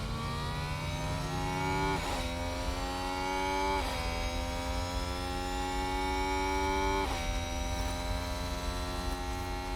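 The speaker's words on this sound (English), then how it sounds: "The Ferrari now overtakes Oscar Piastri." Race cars in the video game F1 Manager 2022, a Ferrari among them, whine through a series of rising engine pitches with gear shifts roughly every two seconds over a steady electronic hum.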